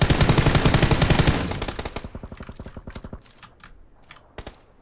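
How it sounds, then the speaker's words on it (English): Rapid automatic gunfire in a video game, a loud sustained burst of dense shots that thins into separate pops and trails off into scattered fainter shots, with no talk over it. "Just let them shoot each other."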